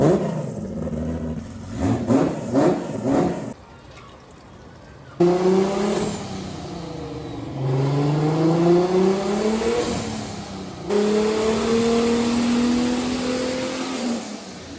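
Turbocharged V6-swapped Vauxhall Corsa C engine warming up and revving on a dyno day: several rising revs with climbing engine tones, dropping back to idle between bursts, close and loud with no talking.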